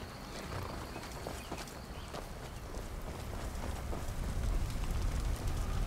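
Horse hooves clip-clop in Skyrim, a quick, continuous patter of close hoofbeats over a faint rushing background, growing slightly louder toward the end.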